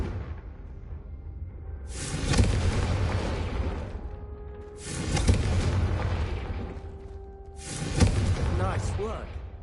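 Fire spell blasts cast in the Hogwarts Legacy video game, three loud booming bursts with whooshing roars spaced a few seconds apart, under a steady background bed.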